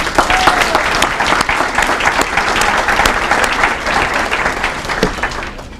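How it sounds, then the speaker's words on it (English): A hall audience at a school sports hall of fame induction claps steadily, a dense, even wash of applause that holds throughout and tapers slightly at the end. "So we need a nice round of applause for them."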